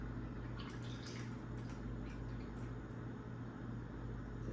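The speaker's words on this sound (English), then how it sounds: "We're going to do a cup of egg whites. So we're just gonna pour it in here." Egg whites are poured into a pan with faint liquid drips and splashes over a constant low kitchen hum.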